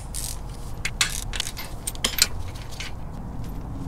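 A half-inch drive ratchet on a medium extension works a 24 mm fill plug loose on a first-generation Toyota 4Runner solid front axle, giving close metallic clicks and clinks in uneven bursts over steady background hum.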